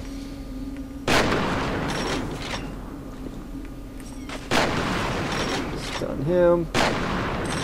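A fire extinguisher bursts in the shooter game F.E.A.R. amid gunfire: three sharp, loud blasts roughly three seconds apart, each trailing into noisy rumble, with a short spoken line near the end.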